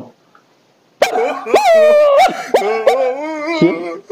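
In a comedy dub, a dog gives a loud run of yelping barks and whining, whimpering cries that rise and fall in pitch. The sounds are voiced by a performer imitating a dog.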